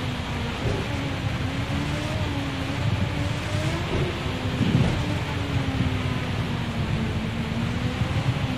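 Steady hiss of rain falling on a wet race track in the Project Cars 2 racing game, continuous and fairly loud, with a car engine droning and shifting pitch underneath throughout.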